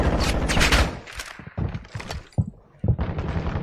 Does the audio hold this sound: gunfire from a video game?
yes